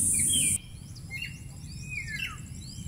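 Birds chirp among banana plants in a mountain forest, with quick whistled calls and sweeping tweets at middle distance, layered over a constant insect buzz and no talking.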